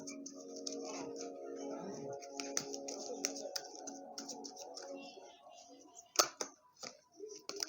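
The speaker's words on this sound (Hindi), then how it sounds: "मैं आपके लिए गाइडेंस के कार्ड ले लेती हूँ" Tarot guidance cards are handled, giving crisp taps, flicks and small clicks close by over soft background music, with a sharper burst of card noise near the end.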